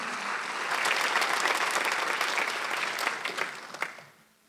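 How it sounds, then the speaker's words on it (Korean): A church congregation at a Sunday worship service applauds: a dense, steady wash of clapping from many hands that swells, holds for several seconds, then thins out and fades. "박수가 하세요. 지금도 계속 구원."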